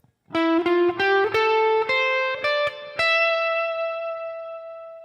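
Electric guitar lick from a song, played alone as a quick run of bright picked notes sliding up the neck, ending on one sustained note that rings out and fades with light effects.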